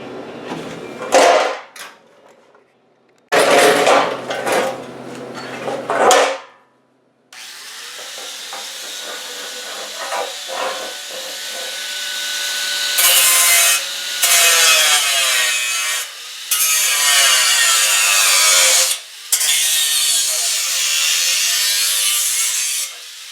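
A power tool cuts into the rocker panel of a Chevy C10 pickup, with a few short bursts first, then a long sustained grinding cut and a harsh rasp broken by brief pauses.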